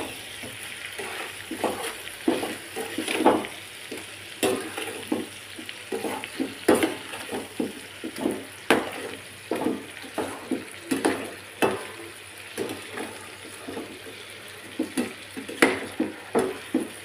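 Chicken fry being stirred in a pan, with rhythmic spatula scrapes and stirs repeating every second or so over a soft, continuous sizzle.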